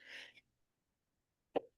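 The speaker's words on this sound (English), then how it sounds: "sorry, I'm going to sneeze" A single short sneeze bursts out after a brief breathy intake and a pause of near silence, close and fairly quiet.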